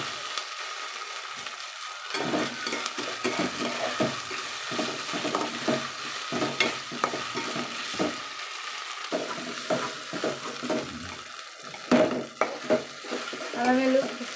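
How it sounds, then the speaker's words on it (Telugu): Ginger and garlic frying slowly in oil in a pan, a continuous soft sizzle broken by repeated stirring scrapes and taps of a spoon, close by and without talk. "ఆయిల్లో నిదానంగా ఫ్రై అవ్వాలండి."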